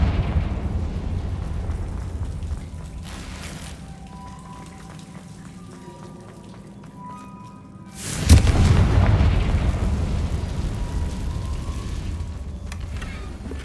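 Confringo fire spell explosion in the video game Hogwarts Legacy, a low rumbling ambience that breaks into a sudden heavy boom with a long rumbling tail, no talk.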